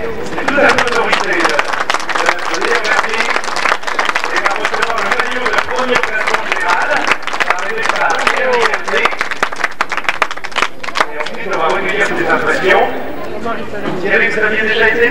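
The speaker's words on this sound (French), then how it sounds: "Mais là, vous l'applaudissez, hein." An audience applauds a cyclist at a Route du Sud road cycling event in Villeneuve-sur-Lot, with sustained dense clapping from a crowd while someone talks over it.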